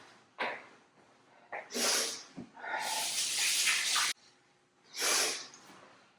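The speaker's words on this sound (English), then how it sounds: "Now I have to touch this, so I'm gonna wash my hand." Hands washed under a running kitchen tap while making puri dough: several loud bursts of splashing water, separated by short quiet gaps, close by with no talking.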